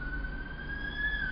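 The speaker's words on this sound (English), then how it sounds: "remember when you hear that siren" A distant siren holds a steady, faintly rising wail over a low rumble of background noise.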